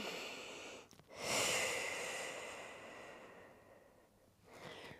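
Slow exhaled breath during a foam roller Pilates workout, a soft airy breathing sound that swells and fades near the microphone, with a shorter breath near the end.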